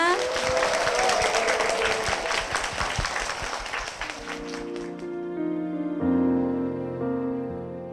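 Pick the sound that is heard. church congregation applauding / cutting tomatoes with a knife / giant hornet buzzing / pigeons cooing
church congregation applauding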